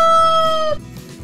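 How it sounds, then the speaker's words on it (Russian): A single rooster's crow rings out loud and close, one long drawn cock-a-doodle-doo held for most of a second before cutting off into quiet farmyard noise, as a farm animal sound in a children's cartoon. "Это петушок. Он кукарекает."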